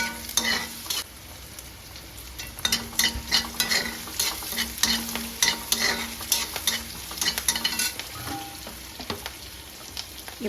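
Curry leaves crackle and fry in hot oil in a pan while a spoon stirs them, giving a steady sizzle broken by repeated scraping strokes, close and fairly loud, with no talking.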